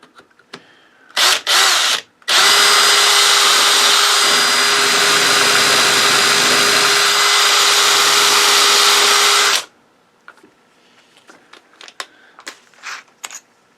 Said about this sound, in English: Try a larger drill bit.